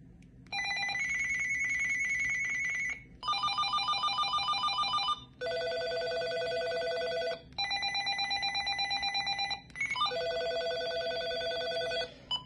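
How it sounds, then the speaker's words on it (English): Cordless phone ringtones play one after another, five distinct bursts of trilling, warbling tones, each a couple of seconds long with short gaps between, clear and loud. "let's listen to the ringers."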